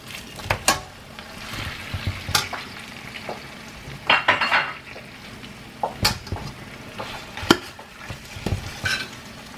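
Pork rib frying in a pan for Lao mee ka tee noodles, a close continuous sizzle broken by repeated stirring scrapes and utensil clatter, with no talking.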